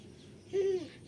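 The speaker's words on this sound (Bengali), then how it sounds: "পুরো পাখিদের পুরো ডাক শোনা যায়।" A single soft, hollow coo rises from the birds around a village rooftop in the afternoon, brief and fairly near against a quiet background.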